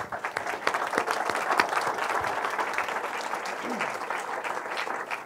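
An audience at a product meetup talk applauds the speaker, a full, close wash of many hands clapping at once, sustained and even throughout the few seconds.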